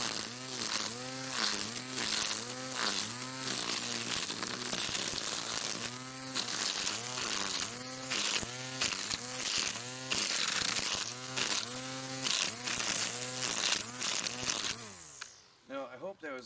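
A Natiddy cordless weed trimmer cuts thick weeds, a loud, close, continuous whine that rises and dips rhythmically as it bites, then cuts out abruptly at the end.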